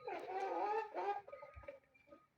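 Several chickens cluck and squawk close by in a continuous, overlapping chatter that thins into scattered softer clucks toward the end.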